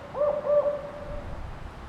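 A rare Mexican spotted owl gives two soft hoots in quick succession from a cool, shaded canyon gorge in Zion, then a faint trailing call fades over quiet background air.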